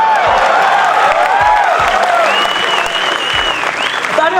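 An auditorium audience claps and cheers loudly and continuously, a close dense wash of applause with a few whoops rising over it.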